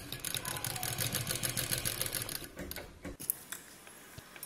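Sewing machine stitching the body of a petticoat, a fast rhythmic mechanical whirr for about two and a half seconds that stops abruptly, followed by a few faint clicks and handling sounds.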